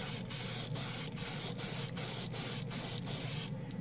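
Heavy 2K clear coat sprayed over chrome paint: eight rhythmic bursts of loud, close hiss, each about a third of a second, separated by brief gaps, ending on a quieter pause.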